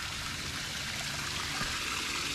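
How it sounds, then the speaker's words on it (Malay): Water at a water point on Gunung Angsi runs in a steady stream, a continuous broadband rush and trickle with no breaks and no voices. "Okay, sini ada water point guys."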